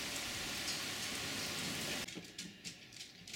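Heavy summer rain after drought in Manchester, St. Louis County, Missouri pours down in a dense, steady hiss, shifting partway through to a thinner patter of drops on a nearby surface.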